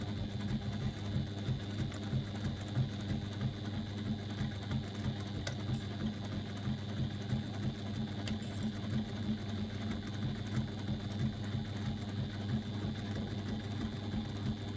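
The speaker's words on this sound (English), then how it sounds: "I've now stitched all down that one long side" A sewing machine stitches a long side seam of a bag with a 1/4 inch seam allowance, a steady, fast mechanical whirr and rhythmic needle patter running continuously at close range, no talking.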